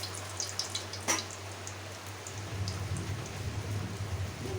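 Hot oil in a pan for Bengali egg curry gives a steady, close crackle and sizzle. It thickens partway through with light popping, and no voices are heard.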